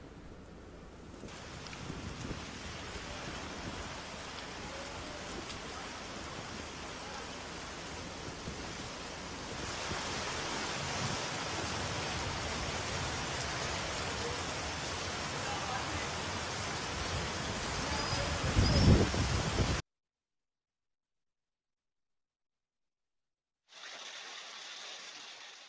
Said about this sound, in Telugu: కుత్బులాపూర్లో ఇప్పటికే ఈదురుగాలతో కూడినటువంటి వర్షం పడుతోంది.